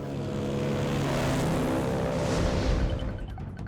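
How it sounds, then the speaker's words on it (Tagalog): Motorcycle engine revved hard during an illegal street race on Marcos Highway, a loud sustained roar that swells and then fades away near the end. "mabilis na binaharurot ang minamanayang motorsiklo"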